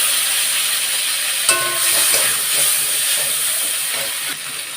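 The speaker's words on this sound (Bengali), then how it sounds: "তারই মধ্যে ছেড়ে দেওয়া হচ্ছে আলুগুলোকেও ভেজে নেওয়া হবে" Fish and potatoes frying in hot oil, a steady loud sizzle and hiss with small crackles, heard up close and uninterrupted without any voices.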